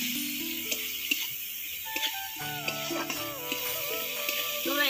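Dry fish frying in a spice paste in a pan, a soft crackling sizzle with scraping and clinking from stirring, music playing in the background.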